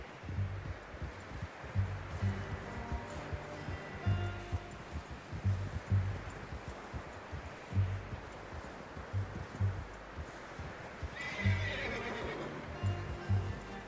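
A horse whinnies and snorts in Red Dead Redemption 2 at a camp, over steady hoof clops and shuffling footsteps, with a louder neigh toward the end; no one speaks.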